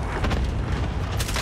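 An explosion in Call of Duty Warzone gives a short, dense boom with a deep rumbling low end that fills the whole moment at close range.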